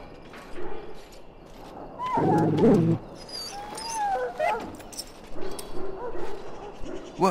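A dog in the Dragon Age Origins video game gives a loud bark followed by softer whines and whimpers, with faint clopping and ambient noise underneath.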